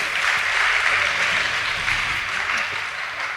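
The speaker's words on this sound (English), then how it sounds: "Please give them a round of applause" Audience applause for a high school debate team at a debate competition, a steady dense clapping that fills the whole moment without pause.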